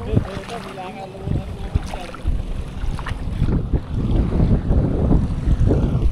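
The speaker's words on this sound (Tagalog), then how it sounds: "Lakas ng hangin eh." Strong wind roars and buffets the microphone on a fishing boat on Caliraya Lake during toman fishing. The gusts run steadily and grow louder toward the end, with voices speaking over them.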